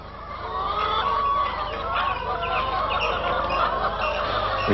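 A flock of hens clucking and chattering continuously, a busy overlapping chorus of fowl calls close by with no talking.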